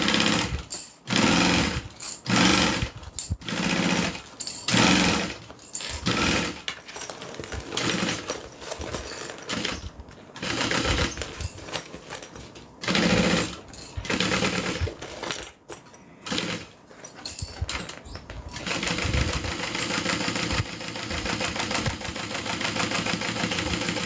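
A sewing machine sews down a Drinks at Tiffany's bag in repeated bursts of fast stitching, starting and stopping with short pauses, then running in one longer steady stretch at the end.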